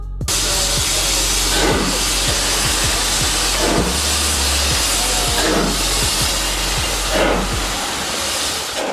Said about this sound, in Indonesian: itu adalah hempasan pembuangan uap dari mesin